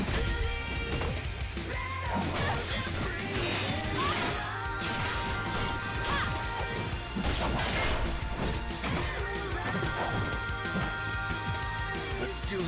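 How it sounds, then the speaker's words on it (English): A blade deflects a hail of bullets in an animated RWBY trailer, producing rapid crashing and clanging impacts in quick succession over a busy soundtrack. "It's always super cool when a character can deflect all the bullets"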